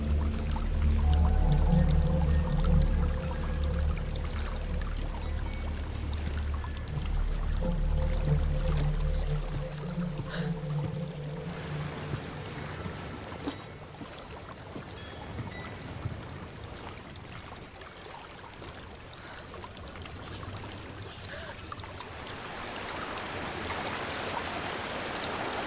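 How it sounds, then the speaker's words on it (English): A waterfall in the video game Hellblade: Senua's Sacrifice, a continuous broadband rush of falling water that stays loud and steady throughout, deep rumbling at first and then a brighter, hissing spray, with no speech. "There's a waterfall."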